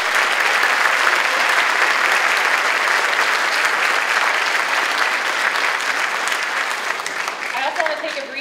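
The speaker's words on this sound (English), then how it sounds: "let's hear another round of applause for the sixth graders" An audience at a school spring band concert applauds the sixth-grade band with dense, loud, sustained clapping that fills the hall and eases slightly near the end.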